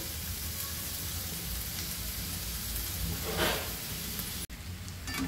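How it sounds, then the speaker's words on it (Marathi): Matki sprouts, potato and masala paste sautéing for spicy Maharashtrian misal, a steady soft sizzle of frying with a brief stir or scrape partway through and a sharp cut near the end, no talking. "मटकी, बटाटा आणि त्यासाठी आपण जे केलेलं आहे वाटण सगळं छान परतून झालेलं आहे"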